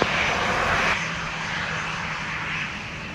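An airliner takes off from runway 07, its engine roar loud and broad at the start, then easing slightly and holding as a steady, sustained rush for the rest of the short stretch.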